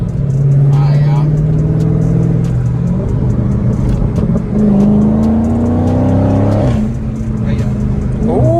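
A Dodge Charger Scat Pack with its muffler and resonator deleted revs up loudly, the exhaust pitch rising and falling through a few throttle pulls, with people talking over it.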